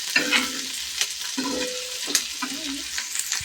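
Onion roasting in a pan, stirred in three bursts of scraping and sizzling with short pauses between, close and fairly loud, no voices.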